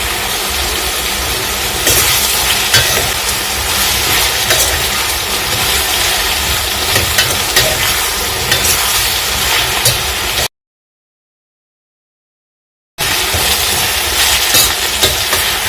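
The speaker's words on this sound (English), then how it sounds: "I'm going to let the lower side of this fry for a few minutes." Eggplant slices fry in a pan with a steady, broadband sizzle that holds near and even throughout, broken once by a short gap of silence before resuming at the same level.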